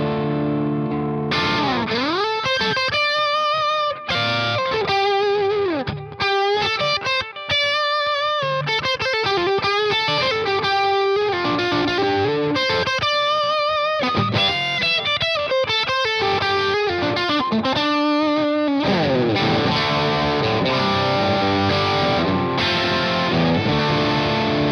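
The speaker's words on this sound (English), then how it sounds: "Going straight into the front end of an overdriven amplifier, the Canyon sounds terrific." An overdriven electric guitar plays chords and phrases through an Electro-Harmonix Canyon delay pedal, with repeating echoes trailing each note, sustained and loud throughout with no talking.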